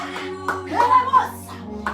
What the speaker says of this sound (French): Nous applaudissons pour Jésus-Christ